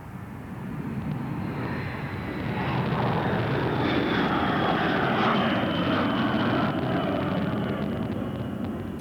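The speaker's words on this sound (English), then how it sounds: "With its cruise missiles on board and a full load of fuel, it will take some time to rise off the ground." A NATO military jet loaded with cruise missiles and a full load of fuel takes off from a runway during the 1999 Kosovo air campaign, a broad, rumbling roar that swells louder midway and holds steady at a distance.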